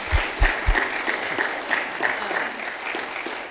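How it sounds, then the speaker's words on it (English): An audience claps for a panel after a talk on medical marijuana, a few sharp low thumps at the start giving way to moderate, fairly even clapping that continues to the end. "So let's give our panelists a round of applause."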